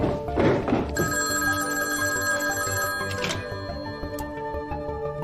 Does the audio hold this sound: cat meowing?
no